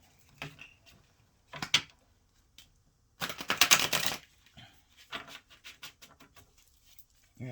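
Several bursts of tarot cards being shuffled, crisp rapid riffling with quiet gaps between, the longest burst near the middle.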